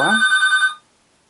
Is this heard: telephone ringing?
yes